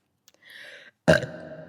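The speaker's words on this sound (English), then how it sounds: "That's the loudest burp I've done in years, I think." A single loud, close burp erupts abruptly after a brief faint vocal sound, rasping for a moment and then trailing off quickly.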